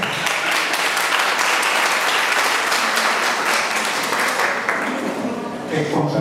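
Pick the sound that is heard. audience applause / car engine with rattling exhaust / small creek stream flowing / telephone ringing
audience applause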